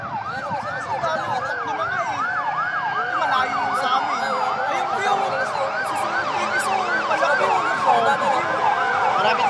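Multiple fire truck sirens wail, sweeping up and down continuously, loud and close, layered over one another with engine rumble and faint voices beneath.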